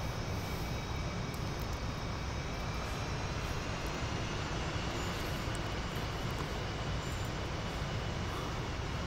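Steady, loud jet engine roar from a flight simulator aircraft coming in to land on an aircraft carrier, a continuous broadband rumble holding without a break and with no talking.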